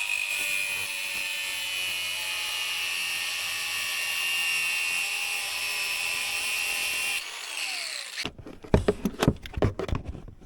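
Power tool cutting the threads off a bolt on a vintage Polaris Indy 600 snowmobile, a steady high whine that stops abruptly and gives way to a few clanks and knocks of metal being handled.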